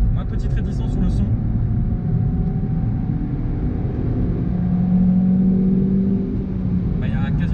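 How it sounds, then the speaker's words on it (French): A Suzuki Swift Sport four-cylinder engine hums and revs steadily at close range, a continuous low rumble with slight swells in pitch and almost no exhaust sound. "il y a un bruit de moteur, de 4 cylindres, mais pas de bruit d'échappement"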